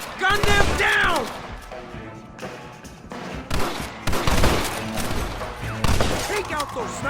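Shootout in a Western town with bursts of rifle and revolver gunfire crackling in rapid volleys, loud and close, interleaved with shouted voices and whooping between the shots.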